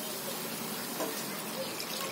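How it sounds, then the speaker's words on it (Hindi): About a glass of water poured into a pan of fried masala while cooking mutton kadhai kofta, a steady, even hiss of running liquid that continues unbroken throughout. "तो पानी हम यहाँ पर 1 गिलास के करीब डाल रहे हैं।"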